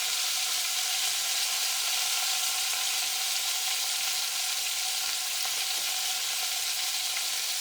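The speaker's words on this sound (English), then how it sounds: "This pot is doing an excellent job searing my meat." Pot roast meat sears in a Le Creuset Dutch oven with a steady, dense sizzle that holds evenly throughout, close and continuous with no talking.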